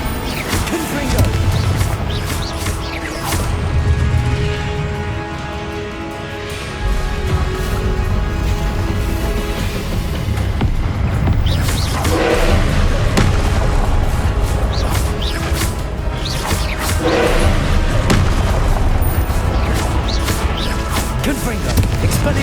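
Repeated booming blasts from the Confringo spell in the Hogwarts Legacy game, loud crashing impacts over dense battle noise, with a voice calling out spells throughout.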